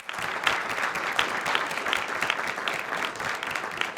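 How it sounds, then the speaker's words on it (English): An audience at a community history conference in Newark applauds, a dense, continuous wash of many hands clapping at steady loudness throughout, with no voices over it. "So I just want to give him another round of applause."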